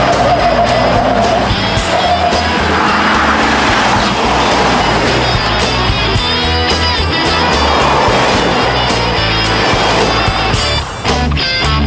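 A stock diesel 4x4 truck accelerates hard on a drag strip run, a loud sustained roar with engine tone climbing and shifting through gears, near and dominant throughout.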